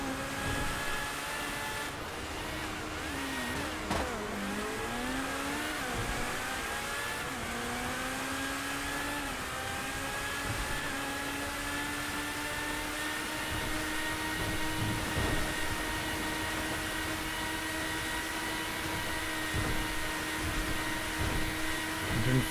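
FMJ GTE supercar engine in a GTA racing session, a loud sustained high-revving drone with pitch dips at gear changes and a long steady pull, continuous throughout.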